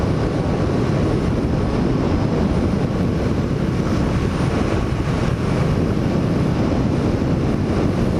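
A 1981 Honda CX500 motorcycle on a commute rumbles steadily at cruising speed, its engine drone mixed with constant loud wind and road noise close to the rider, with no talking.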